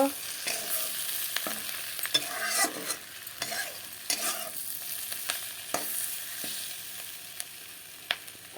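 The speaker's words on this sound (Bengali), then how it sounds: "হলুদ দিয়ে আর একটু ভেজে নেব" Capsicum, potato and onion fry with turmeric in a pan, a light continuous sizzle broken by irregular sharp scrapes and taps of a spatula, heard up close with no voices.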